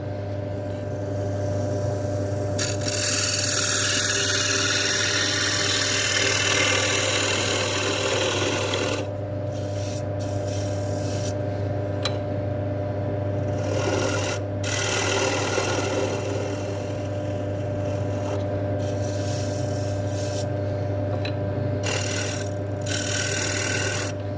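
A woodturning scraper works a camphor laurel bowl on a lathe, giving a steady, loud rasping scrape over the constant motor hum with no pauses, and no talk.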